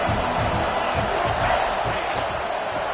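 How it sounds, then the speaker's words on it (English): A stadium crowd at a college football game between Virginia Tech and South Carolina roars in a dense, sustained wall of cheering and yelling, loud and continuous for the whole stretch. "And here comes the noise. This crowd is trying to inspire this defense to make a big red zone stop."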